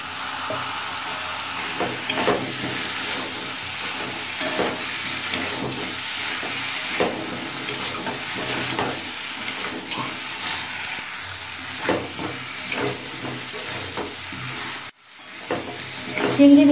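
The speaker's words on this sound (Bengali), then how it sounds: "এবার দিয়ে দেবো চিংড়ি মাছ।" Prawns for ol chingrir dalna are sautéed and stirred in a pan, giving a loud, continuous close sizzle with rhythmic spatula scrapes, then a brief dropout and a renewed burst of frying near the end.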